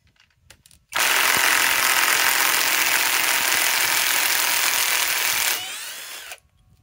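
A Harbor Freight Hercules cordless impact wrench runs in one continuous loud burst for about five seconds, a steady high whine and rattle close up that sags slightly before cutting off, with no talk.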